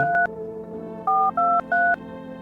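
Touch-tone keypad beeps from a phone handled in the video game No I'm Not a Human: one short dual-tone press, a pause, then three quick presses in a row, clear and close with no talk.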